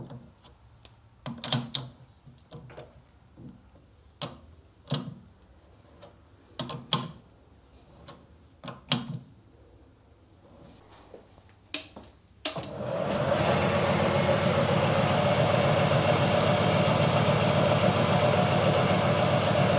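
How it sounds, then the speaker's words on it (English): A milling machine cuts the edges of a metal plate, first with scattered clanks and ticks from setting up, then a loud steady grinding whir that runs without break for the final seven seconds. "So we've got to mill the edges, and the outside perimeter is not critical at all."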